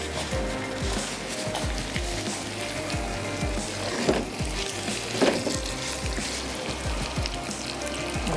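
Chicken pieces and garlic frying in a pan with a steady, low sizzle, along with scattered clicks and scrapes of stirring, heard close and fairly quiet with no talking.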